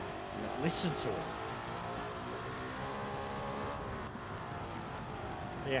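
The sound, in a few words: Mercedes W196 race car engine, video game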